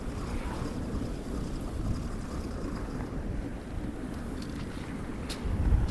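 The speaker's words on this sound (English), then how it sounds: "That wind is really up, isn't it?" Strong wind roaring across a beach during surf fishing, a constant heavy buffeting rush that swells louder near the end, with no voices.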